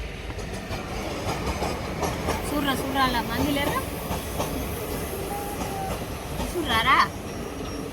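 A train rumbles through Jogulamba railway station, with a steady, close rolling noise that runs throughout while people talk over it.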